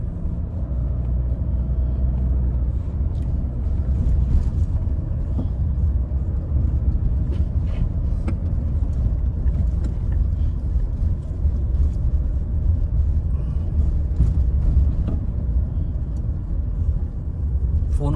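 A car drives a rough, broken mountain road between Manali and Sethan in Himachal, giving a steady low engine rumble and road noise with occasional small knocks and rattles throughout.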